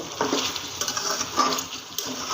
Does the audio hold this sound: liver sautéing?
yes